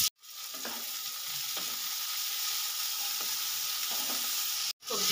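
Capsicum, carrot and potato stir-fry in a pan with a continuous close sizzle, punctuated by several soft scraping stirs spaced through the clip.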